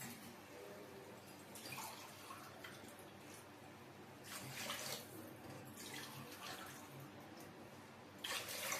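Water is poured into a pot of two glasses of soaked rice for khichdi, a soft continuous splashing and trickling with a few louder gushes, faint and close, with no voices.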